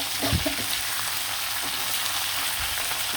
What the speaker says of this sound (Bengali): ভেজে নিব আর বাজা হয়ে গেলে কিন্তু আমি উঠিয়ে নেব মাংসের পিসগুলো